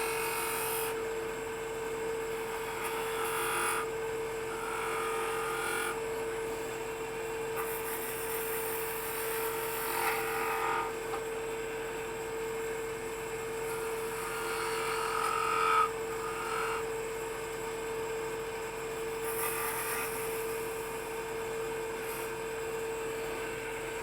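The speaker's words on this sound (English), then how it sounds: "Come in with a spindle gouge. I believe this is a 3/8 spindle gouge." Wood lathe turning a tea light holder, a 3/8 spindle gouge cutting a small bead at the bottom, giving a steady high whirring hum with light scraping swells throughout, close and continuous with no talk.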